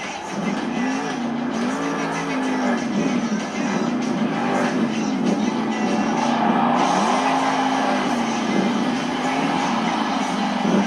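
A Scooby-Doo monster truck roars through a sky wheelie in an indoor arena at a Monster Jam show in Wichita, Kansas, its loud engine rising and falling in long revving sweeps over a steady crowd din.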